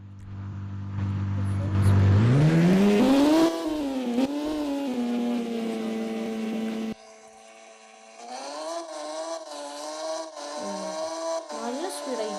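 Motorbike engines in a Moto Rush video game drag race, a steady synthetic drone that rises in pitch as revs climb, drops off abruptly, then returns with wavering pitch over a continuous bed of game audio.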